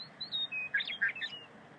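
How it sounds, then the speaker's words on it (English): Meadowlark song heard at a species-at-risk summer event: a series of clear, rising and falling whistled notes with a short jumbled warble in the middle, moderately near, over a faint low background rumble. "that's the song of the meadowlark"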